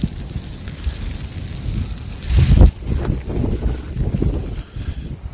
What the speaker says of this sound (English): The San Bernardino Mountains are battered by heavy snow and wind gusts up to 70 miles